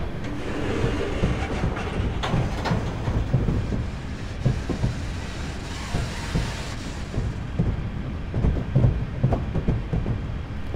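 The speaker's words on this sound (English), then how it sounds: "I have idled the power to allow the train to coast until we can accelerate further" Train rolling on rails with its power idled, coasting at about 15 mph on a night run from Glasgow Central to Glasgow Airport in Train Simulator 2015. A steady rumble carries rhythmic clickety-clack wheel beats, close and continuous, with no talk.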